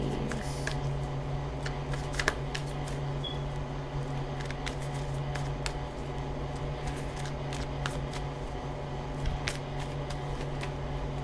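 Tarot cards are shuffled by hand in a quiet room, a faint, steady riffling and sliding with scattered soft clicks and snaps, over a low, constant background hum.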